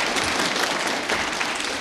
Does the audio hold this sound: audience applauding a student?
yes